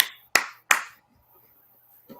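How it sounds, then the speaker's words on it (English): Two sharp claps close together, near and loud, then a short quiet gap and a fainter third clap at the end, with no one talking. "Thank you for the clap."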